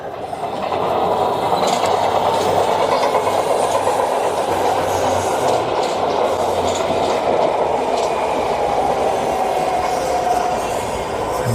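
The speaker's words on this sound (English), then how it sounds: "Today I'm getting an opportunity to stand next to a train called 3289" Freight train number 3289 rolling past close by in Chamblee, Georgia, a loud continuous rumble of wheels and cars with faint squeal, lasting the whole stretch without talk.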